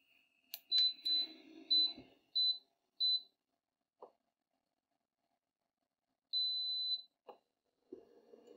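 A heat press used on heat transfer vinyl under a Teflon sheet gives a run of short electronic beeps, then one long tone a few seconds later, clear and close against near silence, with a few faint clicks.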